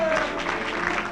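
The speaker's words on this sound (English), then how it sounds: "Let's have a nice round of applause" Wedding guests clap together in a brief burst of applause, a dense patter of many hands heard indoors, with voices murmuring faintly underneath.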